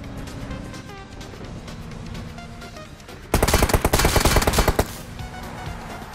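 Gunfire in the PUBG Mobile battle game, a loud burst of rapid automatic shots lasting over a second after quieter distant rattling and ambient game sounds.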